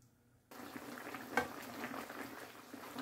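Pork cubes for spareribs caldereta sizzle steadily in a pan, starting abruptly after a brief quiet moment. A soft, continuous frying hiss with one small clink partway through stays faint and close, and no one speaks.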